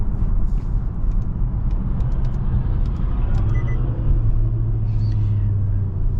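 A 2022 Nissan Altima with a CVT, shifted by paddles on a test drive, heard from inside as a steady engine rumble and road noise, with a low hum rising in the second half.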